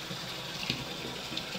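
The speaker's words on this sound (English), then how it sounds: "I kind of rinse everything off and stuff." Water from a tap runs steadily in a sink while rinsing off after a wet shave, a continuous close hiss and splash with no talking.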